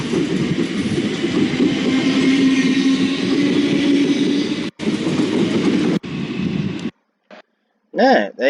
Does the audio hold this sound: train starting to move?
yes